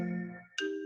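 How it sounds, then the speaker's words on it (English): An electronic ringtone from a computer signalling an incoming phone call, a brief bright tonal chime with steady sustained notes that switch pitch partway through, fairly quiet with no talking. "my computer also takes phone calls"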